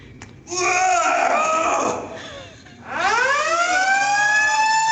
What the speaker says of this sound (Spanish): hacen sonar una alarma llamada la lunk alarm